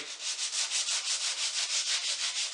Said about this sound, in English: I'll go to hand sanding the curved bases